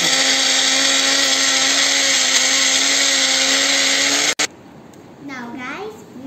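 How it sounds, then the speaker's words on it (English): An electric kitchen blender grinds choco lava cake ingredients with a loud, steady whirring motor hum lasting about four seconds before cutting off abruptly, followed by a person speaking. "Now guys, we'll grind it"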